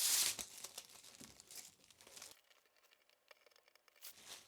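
Plastic packaging crinkling and rustling during the unboxing of a Thermaltake Core V21 cube computer case, close-up handling in irregular bursts with a brief quiet stretch midway.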